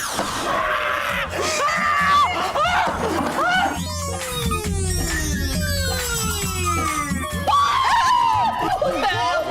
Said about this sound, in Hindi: इसके चिल्लाने से मेरा सर फटा जा रहा है।